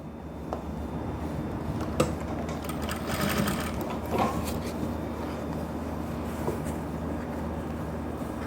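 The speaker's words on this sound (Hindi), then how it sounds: "यहाँ से सिलाई की शुरुआत करनी है आपको" A sewing machine runs continuously at a steady, loud hum while stitching elastic-waist pants, with faint clicks and rattles of the fabric and mechanism over the whirring motor.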